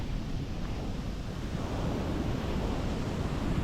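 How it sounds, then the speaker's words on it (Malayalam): Sea waves surge onto a shoreline beside houses damaged by coastal erosion on an afternoon in Kerala, a steady, loud, broad roar of surf with wind, with no talking. "കടൽ അത്യാവശ്യം ഇന്നലത്തെ പോലെ തന്നെ നല്ല പോലെ തന്നെ കയറി വന്നു തുടങ്ങിയിട്ടുണ്ട്"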